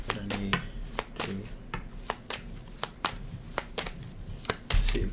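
Tarot cards being shuffled by hand, a steady run of crisp riffling flicks and slaps, close and fairly soft, with no talking over them.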